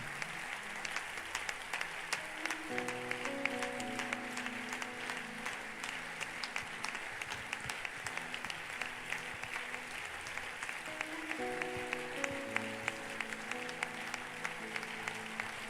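A church congregation claps and applauds steadily throughout, a dense, fairly distant wash of hands with some sustained tones underneath.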